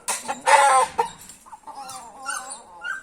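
An Asil Indian game rooster and his hens give a loud burst of calls followed by softer clucking and short vocalizations, close by with no talking.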